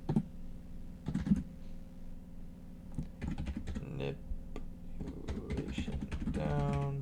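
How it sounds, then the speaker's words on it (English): Bursts of typing on a computer keyboard, quick irregular key clicks starting and stopping over a steady low background hum, with a brief muffled voice-like sound near the end. "let's type this out for everyone"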